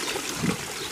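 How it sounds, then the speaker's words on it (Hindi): Water from a tubewell pump pouring and trickling as it fills up in a village setting, a brief, close, steady splashing stream. "पानी भरता जा रहा है"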